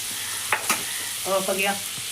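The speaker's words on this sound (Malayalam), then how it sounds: "ഇപ്പം നമ്മൾ ഇനി ഉള്ളിയൊക്കെ വാട്ടിയെടുക്കുകയാണ്" Onions sautéing in hot oil in a pan just used to fry chicken for chicken cutlets: a steady close sizzle with a few stirring knocks and a brief squeaky tonal rasp, with no talking.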